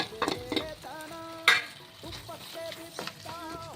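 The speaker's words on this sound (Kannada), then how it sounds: "ಈಗ ಆಲ್ಮೋಸ್ಟ್ ಆಗಿದೆ, ಇನ್ನೊಂದು 2 ನಿಮಿಷ ಹೀಗೆ ಫ್ರೈ ಆದರೆ ಒಗ್ಗರಣೆ ಮುಗಿಯುತ್ತೆ" Coconut and chana dal fry in a hot tempering for bisi bele bath, giving a soft sizzle broken by several sharp stirring scrapes and clinks of a spoon against the pan.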